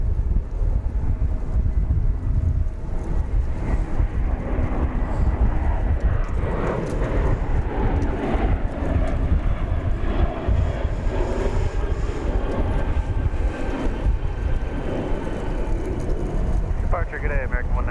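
An American Airlines airliner takes off from runway 18 left at DFW Airport, a loud, sustained jet roar heard from nearby and mixed with heavy wind buffeting on the microphone, while a voice talks over it.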